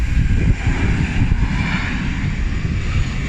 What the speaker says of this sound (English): Oh, there's a plane going.